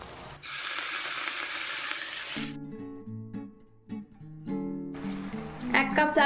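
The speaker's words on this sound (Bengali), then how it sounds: "এবার আমি জলটা দিয়ে দেবো, গরম জলটা।" Hot water poured onto rice frying in a pot: a loud sizzle lasting about two seconds, then a quiet stretch with music, and a hissing bubbling sound rising again near the end.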